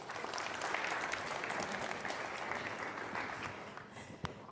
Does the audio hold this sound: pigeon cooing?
no